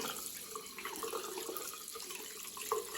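Warm water runs steadily from a tap while a brush is rinsed under it, a continuous soft splashing hiss with small flickers of bristle contact, no talking.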